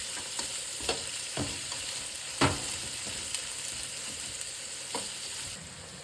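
Mixed vegetables frying in a pan for rice upma sizzle steadily, with several scraping stirs and light clinks of a spatula spaced through the sound, then the sizzle eases slightly near the end.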